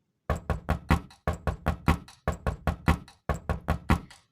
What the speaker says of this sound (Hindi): अरे ये कौन है जो मेरे दरवाज़ा बजा रहा है?